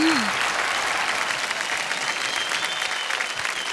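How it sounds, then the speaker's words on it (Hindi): Dense audience applause welcoming a singer at a radio music awards show, a steady wash of many hands clapping throughout, loud and sustained with no voices on top. "जोरदार तालियों से स्वागत कीजिए।"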